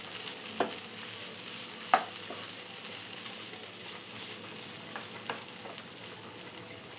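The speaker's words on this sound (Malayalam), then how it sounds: "ഇനി ജസ്റ്റ് ഒന്ന് ഇളക്കി കൊടുത്ത് നമുക്ക് ഫ്ലെയിം ഓഫ് ചെയ്യാം" Beetroot fry in a pan with coconut oil, stirred just before the flame goes off: a quiet, even sizzle with a few sharp spoon scrapes and taps against the pan.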